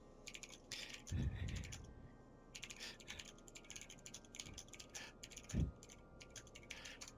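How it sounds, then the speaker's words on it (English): Loud mechanical keyboard typing in rapid bursts of clacking keys, with a couple of heavier thumps and brief pauses between runs. "you can hear my obnoxiously loud keyboard going off"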